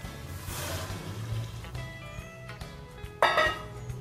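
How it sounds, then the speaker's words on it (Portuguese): About half a litre of water is poured into a pot of seasoned oxtail, a soft liquid rush that ends in a brief louder splash near the end, with no talking. "Agora coloque mais ou menos 1/2 litro de água."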